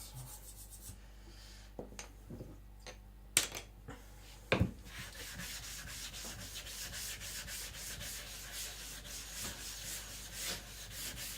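An IKEA Chinese cleaver scraped across a sharpening stone to flatten it, faint gritty rubbing strokes with a few sharper knocks near the start, then a quieter continuous grinding.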